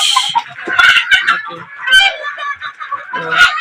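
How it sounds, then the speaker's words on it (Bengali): Chickens cluck and squawk close by while pecking at fed moringa leaves, with busy overlapping calls, a few crow-like cries and a voice speaking now and then among the birds. "আমার মুরগিগুলাকে আমি এই যে টানাই দিছি সজনে পাতা এরা খাচ্ছে"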